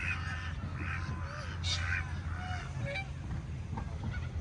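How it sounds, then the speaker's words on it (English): Cockatoos squawk in harsh bursts while squabbling with pigeons at a duck pond in Caboolture, with several calls rising over a steady outdoor background hum. "Couple of cockatoos fighting with the pigeons."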